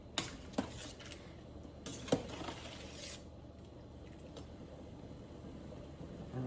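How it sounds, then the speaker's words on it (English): Quiet clinks and scrapes of a utensil against a pot while homemade chicken soup is stirred, a few sharper taps early on followed by soft intermittent rattling, close but faint. "Stir or mix everything together."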